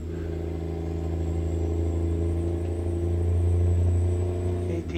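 Detroit DD60 engine in a truck in American Truck Simulator, with an 18-speed transmission, giving a steady, loud low rumble that swells slightly toward the end, with no talk over it.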